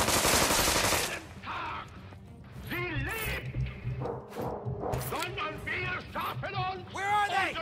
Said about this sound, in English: Shoot the floor!